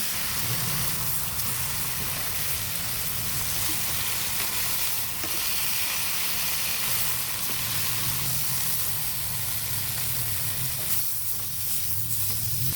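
Marinated chicken pieces sizzle and fry steadily in a pan, browning for a barbecue-style dish, with a continuous loud crackling hiss and no talking.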